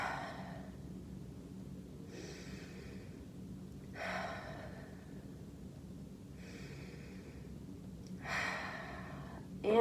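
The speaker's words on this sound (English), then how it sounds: "let's take 3 more deep breaths" Slow deep breaths taken during a seated exercise routine, several long soft inhales and exhales spaced a couple of seconds apart, quiet and close over a faint steady background hum.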